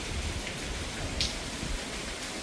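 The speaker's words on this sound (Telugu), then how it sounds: "ఇప్పుడు ఎంత వర్షం" Heavy rain pours down steadily in a neighbourhood lane during a storm, a dense continuous hiss of drops striking surfaces, moderately loud and unbroken for the whole stretch.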